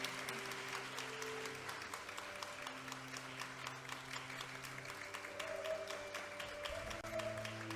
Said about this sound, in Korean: 다시 한번 축하의 박수 부탁드리겠습니다